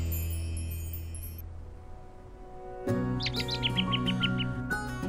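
Pet birds in a Reli Birddy smart bird cage giving a quick run of bright chirps and tweets close by, after a quieter stretch with soft background tones.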